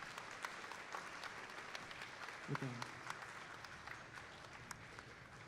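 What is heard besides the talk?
audience applause at an event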